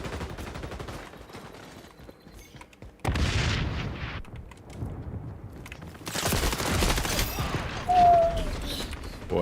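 Shotgun and sniper fire sound in the shooter game XDefiant. Rapid clicky mechanical noises give way to sudden loud bursts of gunfire that come and go, heavy broadband blasts near the middle and later on.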